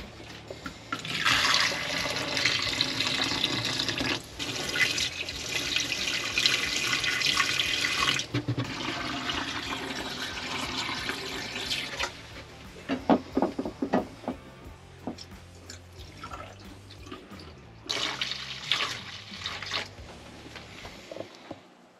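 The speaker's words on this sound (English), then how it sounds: "we're going to pour it into all the sinks, the toilet, and the shower to get it into the P-traps" RV antifreeze pours and gurgles into the sink, toilet and shower drains to fill the P-traps, a steady rushing liquid stream broken by pauses and splashy gurgles, with no talking.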